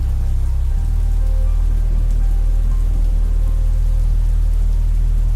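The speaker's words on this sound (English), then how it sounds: "The rain had been relentless all day, a steady drumbeat against the windows of the old, creaky house" Steady, relentless rain pours against an old, creaky house, a dense continuous hiss over a deep low rumble, with no other sounds.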